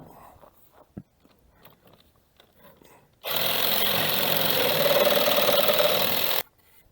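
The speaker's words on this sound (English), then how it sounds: "Now we're going to try to finish that with our Sawzall." A Sawzall reciprocating saw cuts through a door in one loud, steady buzzing burst of about three seconds, preceded by quiet handling noises and followed by near silence.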